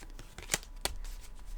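A small travel-size Rider-Waite tarot deck is loosely hand-shuffled, giving soft papery riffles with two sharper card snaps, close and quiet, with no talking.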